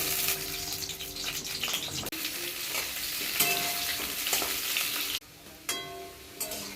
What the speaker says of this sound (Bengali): দেখো লাল লাল ভাজা হয়ে গেছে